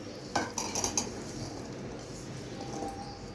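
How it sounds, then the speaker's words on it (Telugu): A spoon stirs cucumber pieces in a bowl for a mustard cucumber pickle, with a few bright metallic clinks early on followed by quieter scraping and stirring. "ఒకసారి కలిపేసేసుకోండి మొత్తం"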